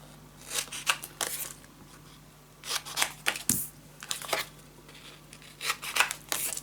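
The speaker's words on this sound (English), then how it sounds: "Cut the corners." Scissors snip through the corners of paper for a scrapbook pop-up mini album, in a series of short, crisp cuts grouped in bursts with quiet gaps between them, close to the mic.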